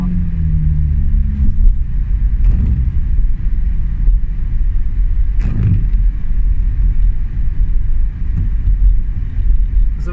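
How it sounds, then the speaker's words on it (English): Car engine idling while warming up on a cold winter morning, a loud steady low rumble heard from inside the cabin with occasional knocks and brief rising whines. "Warming up the car,"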